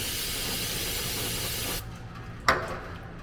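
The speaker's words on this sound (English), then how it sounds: "Clean it with some brake parts cleaner." Brake parts cleaner sprayed from an aerosol can onto a quarter-inch aluminum skid plate for a Toyota Tacoma, a loud, steady close hiss lasting almost two seconds, then a short metallic clack once it stops.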